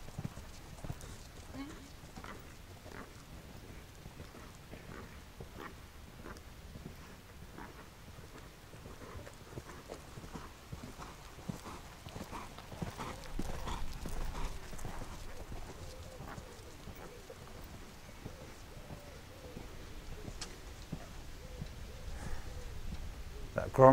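Horse hooves canter through a Grand Prix dressage zigzag along the centre line, a steady rhythmic clip-clop of strides on arena ground, moderately close, with a voice talking over them.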